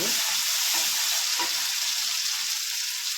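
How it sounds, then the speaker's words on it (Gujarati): Grated garlic and curry leaves sizzle in hot oil for a Kathiyawadi garlic chutney, a bright steady hiss with a few soft scraping stirs near the start, close and continuous with no talking. "અને એક લસણનો પેટ ખમણી નાખ્યો તે નાખશું આપણે. સારી રીતે હલાવશું."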